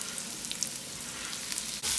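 Onions and grated garlic frying in a pan give a steady, close sizzle with a bright hissing crackle that holds through, swelling louder near the end.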